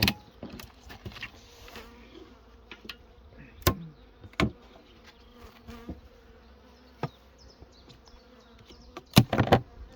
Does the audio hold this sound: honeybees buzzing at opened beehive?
yes